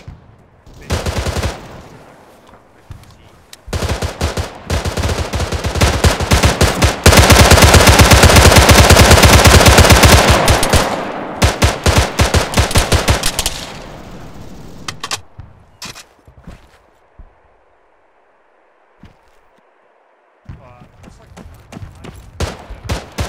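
Arma 3 infantry town assault gunfire pours into a building: sustained loud automatic bursts and rapid shots, then scattered single shots tapering off. Voices talk over the firing.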